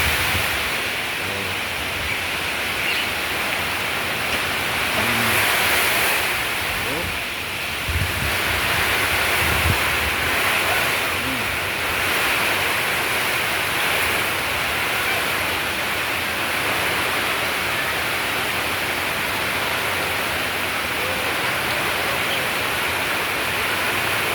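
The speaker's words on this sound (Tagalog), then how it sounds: "Taas ang hangin." Strong typhoon wind roars steadily and loudly for a long stretch, a dense rushing noise buffeting the microphone with no voices.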